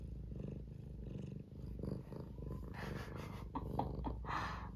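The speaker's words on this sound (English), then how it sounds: "she's just purring up a storm." A cat purrs up a storm close by, a steady low rumbling throb running throughout, with a few soft snuffling and shuffling noises layered over it.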